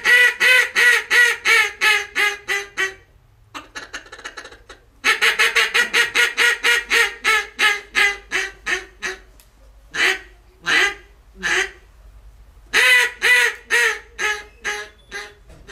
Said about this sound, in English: Got a wooden mallard call here.